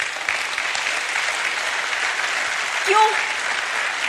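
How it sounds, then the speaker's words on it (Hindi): An audience claps loudly and continuously for homemakers at a business event, a dense and steady wash of applause, with a brief spoken word cutting in near the end. "मैं चाहती हूं इनके लिए बहुत जोरदार तालियां हो"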